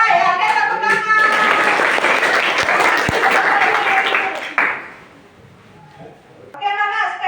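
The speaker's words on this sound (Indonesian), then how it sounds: "Oke, tepuk tangan." Children in a classroom clap their hands together in a loud, dense burst of applause lasting several seconds, then it fades and a voice speaks briefly near the end.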